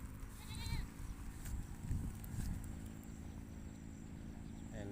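Goats bleating on farmland for sale in the countryside, faint and distant over a steady outdoor background rumble, with a few short wavering calls.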